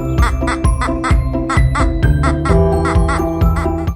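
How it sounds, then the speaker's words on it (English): Duck quacking in a rapid, regular series of loud nasal quacks, repeated steadily over a continuous musical backing. "Quack, quack. It's a duck."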